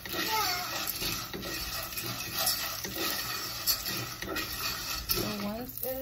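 Fideo pasta toasting in a pan is stirred and tossed with a utensil, giving steady scraping and rustling over a faint sizzle, close and continuous, with occasional clinks against the pan.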